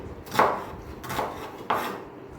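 Three firm knife chops on a cutting board while cutting ingredients for mutton biryani, evenly spaced, close and clear with no talk.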